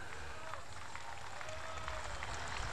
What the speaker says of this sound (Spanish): un aplauso para el ejército.